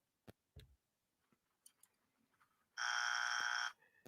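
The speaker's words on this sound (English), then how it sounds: "this deserves a buzzer" A loud, steady electronic buzzer blares for about a second after some faint scattered clicks and knocks.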